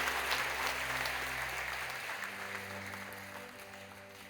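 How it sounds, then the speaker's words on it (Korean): A church congregation applauds to welcome newcomers, steady, fairly soft clapping from many hands, with a low sustained organ-like tone underneath that drops away partway through. "여러분께 박수로 환영하시죠."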